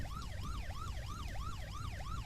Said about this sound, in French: Mais non, regardez, une ambulance!